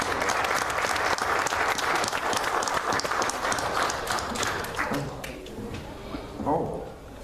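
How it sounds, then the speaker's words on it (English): A room of people at a village board meeting applauds school board members, with loud, sustained clapping that fades toward the end as talk begins. "Could you give these people please a round of applause?"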